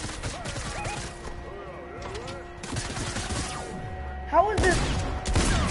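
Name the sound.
gunfire from a video game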